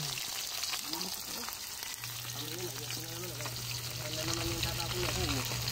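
Aligasin fish frying in oil, a steady broadband sizzle running throughout with people talking over it and a low steady hum underneath.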